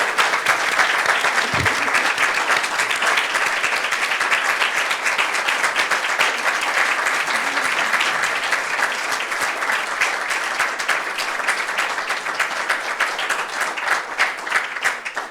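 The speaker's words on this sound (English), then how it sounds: "let's give a round of applause for our panelists" Sustained, dense audience applause for panelists at the close of an education discussion event, many hands clapping at a steady loud level throughout with little change, briefly touched by a low voice early on.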